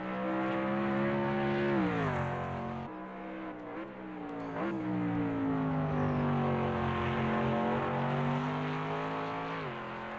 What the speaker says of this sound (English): There goes the helicopter overhead.